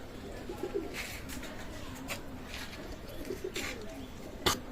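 Pigeon squabs of a fancy breed coo softly, with a few low throaty calls and faint chirps over quiet background noise, no voices.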